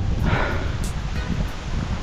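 Strong wind gusting outdoors during a typhoon, a steady broadband roar with rustling, close and loud throughout with no talking.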